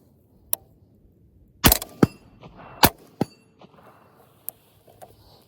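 Suppressed 5.56 rifle shots fired through a CMMG Zeroed 30-caliber suppressor on a shooting range ring out as a few sharp, spaced cracks, close and loud against quiet background.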